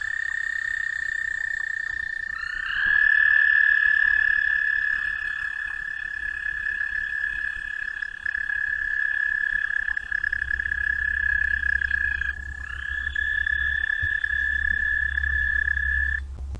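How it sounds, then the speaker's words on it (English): A recorded frog call played back during a lecture on amphibians: one loud, sustained, high-pitched trill that runs steadily with a brief break near the end, no talking over it. "I'm going to play you a few of the frog calls"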